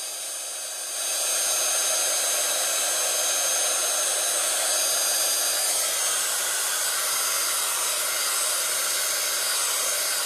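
A heat gun runs steadily at a scrapbooking workshop, a loud continuous blowing hiss that starts after a brief quieter moment and holds for the rest of the span, with no talk over it.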